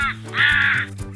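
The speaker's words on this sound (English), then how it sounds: "Crow." A crow gives a single harsh caw, clear and close, with a short rasping call at the start and a faint trailing note.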